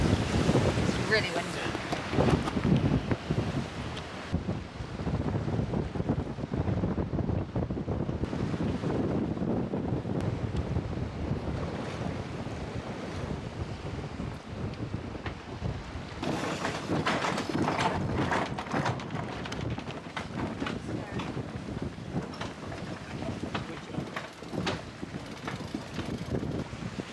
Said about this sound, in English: So it's very windy, it's been blowing like 30 knots of wind.